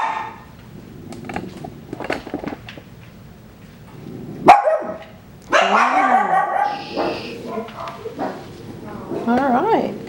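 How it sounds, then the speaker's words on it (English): Six-week-old Coton de Tulear puppies bark and yip in quick bursts close by, with louder, busier barking in the second half while people talk. "there you have Luna's precious puppies, 6 weeks old"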